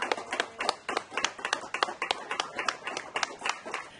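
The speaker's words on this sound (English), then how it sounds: "Can I have a round of applause for these guys?" Small audience at an Indiana youth bass fishing tournament awards clapping, a thin, light patter of separate hand claps at fairly steady rhythm, moderately close and modest in volume.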